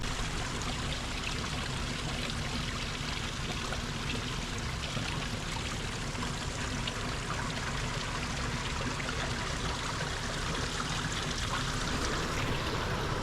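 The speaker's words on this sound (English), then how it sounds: "There's water just running everywhere here." Water running everywhere in a mountain stream along an Alaskan backcountry road near Wrangell, a steady broadband rushing and trickling wash that stays even and fairly close for the whole stretch, alone without voices.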